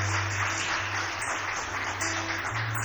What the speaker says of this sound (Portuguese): você pode aplaudir a vida deles